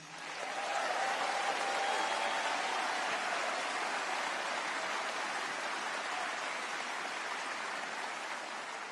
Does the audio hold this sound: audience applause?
yes